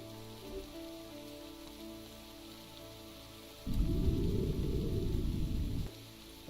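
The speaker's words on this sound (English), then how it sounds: "Where am I hearing rain?" Rain in the Minecraft mod Terrafirmacraft, Hardrock modpack, rises abruptly as a dense, hissing patter for about two seconds over a faint low tonal hum, then cuts off just as suddenly.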